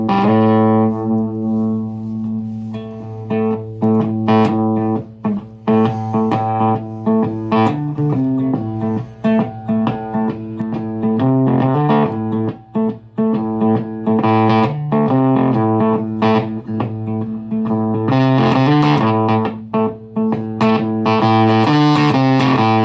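Electric guitar played through effects powered by a dead battery, a loud, sustained distorted tone with sagging, gated notes and chords that drop out briefly, alone with no talk.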